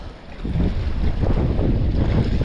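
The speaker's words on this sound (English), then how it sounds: "This wind is really getting up." Strong coastal wind at Roundham buffets the microphone in a loud, steady low roar with gusty surges, and waves are faintly audible beneath it. No one speaks.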